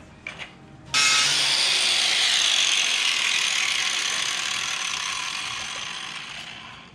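Brief mechanical clatter, then an angle grinder kicks in loud and close, grinding a metal piece flat, its harsh grinding steady before slowly easing off.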